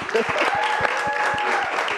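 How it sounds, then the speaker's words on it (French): An audience applauds a guest from Rwanda Book Mobile with a moderate, steady clatter of hands, a few distinct claps standing out against the crowd and voices mingling underneath. "J'aimerais qu'on applaudisse pour notre invité."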